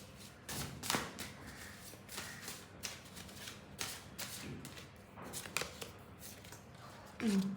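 Tarot cards are shuffled by hand with a run of soft riffling taps and flutters, close and fairly quiet, during a tarot reading; some faint talking or background noise sits under the shuffling.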